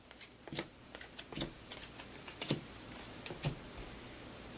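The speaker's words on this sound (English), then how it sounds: "we'll give these a quick shuffle and a cut" A deck of board-game cards being shuffled and cut on a table, a series of quick riffling bursts and soft slaps in a quiet room, close and moderately loud.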